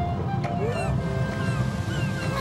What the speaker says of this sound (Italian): Questo è il rumore dell'oceano.